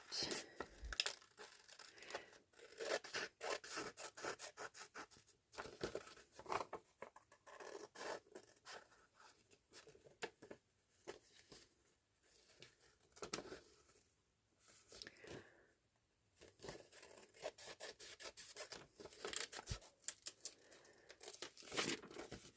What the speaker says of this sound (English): And then just come in with my scissors and cut that out.